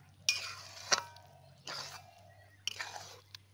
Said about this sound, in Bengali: এবার ভালোভাবে মিশিয়ে নেব।